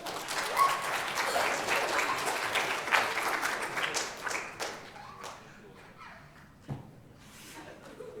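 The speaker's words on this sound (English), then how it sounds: "big round of applause for Addie and Dusty Skinner." An audience at a Lads to Leaders event breaks into loud, dense clapping that swells, then thins out and fades. A few scattered claps trail off at the end, with faint voices underneath.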